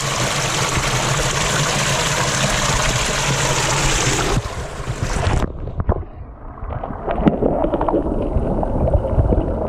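Ice-cold water rushes steadily through a concrete bioswale with a dense, broadband roar, then the sound drops away to a quieter trickle with scattered splashes and handling noise.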